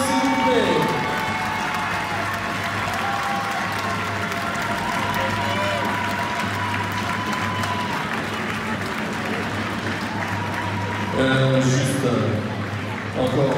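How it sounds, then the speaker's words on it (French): Sustained applause and cheering from a crowd in an arena saluting a youth sports team, steady and loud throughout with a swell near the end and a talking voice underneath. "Encore évidemment des grands applaudissements pour cette équipe."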